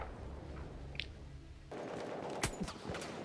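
Gunfire in a shooter video game, faint rapid bursts of shots that thicken in the second half and are heard in the distance without talk.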